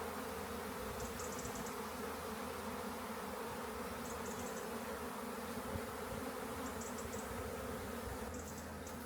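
Swarming honey bees fill the air with a dense, continuous buzzing hum in a good season for bees and honey, steady and enveloping with no voices, only faint higher chirps now and then.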